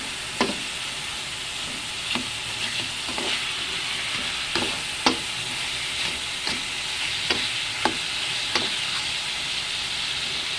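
A chicken and egg adobo dish frying in a pan while being stirred, with a constant close sizzle and hiss broken by about a dozen sharp spatula scrapes and knocks at irregular intervals.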